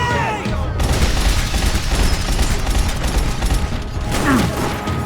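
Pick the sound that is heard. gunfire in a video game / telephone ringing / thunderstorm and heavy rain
gunfire in a video game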